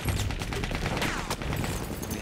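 Rapid gunfire in Battlefield 1, a dense, continuous fusillade of nearby shots through the whole moment, with battle noise all around.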